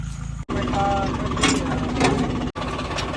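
A tractor engine idles at a poultry farm while a trolley is hitched, with a steady low rumble and knocking throb, briefly cut off twice, with faint talk in the background.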